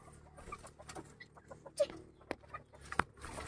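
Backyard chickens clucking in a series of short, scattered calls at close to moderate range, with a few sharper peaks standing out over a low continuous background.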